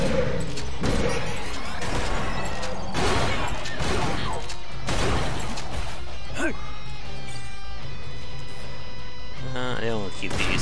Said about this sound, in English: I still can't dodge that explosion